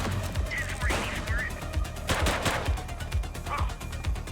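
Suspect and police gunfire exchanged in The Precinct video game, several sharp shots scattered irregularly over a dense, busy mix of game noise, with shouted speech and a voice over the top.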